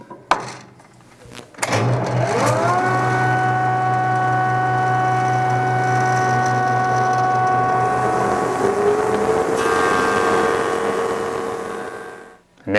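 A Craftex CX08 8-inch parallelogram jointer spins up with a rising motor whine, settles into a loud, steady hum, and roughens briefly as wood is jointed before the machine winds down.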